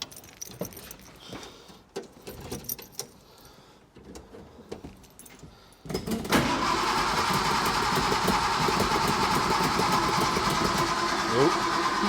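A 1953 Vauxhall Velox ute with the choke on is started after keys rattle and a few slow cranking attempts, then catches about halfway through and settles into a loud, steady idle.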